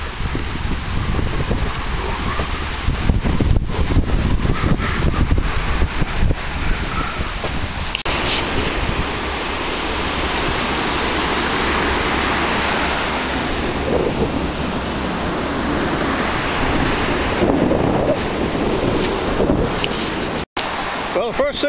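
Strong wind buffets an open microphone beside a bay, a loud, continuous roar and rumble with gusty surges that persists throughout and briefly cuts out near the end.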